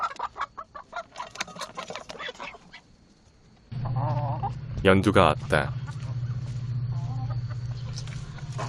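Chickens and geese in a barnyard flock clucking and honking, with a steady low hum from about midway and a burst of louder calls near the middle; a person speaks briefly near the start.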